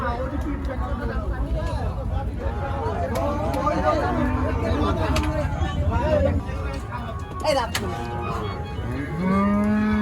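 Cattle moo repeatedly at a busy beef cattle market in Pabna, Bangladesh, several drawn-out lowing calls rising over a constant hubbub of crowd chatter and nearby talk.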